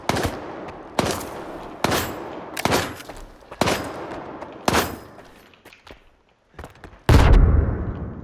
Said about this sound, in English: aiming with a sniper rifle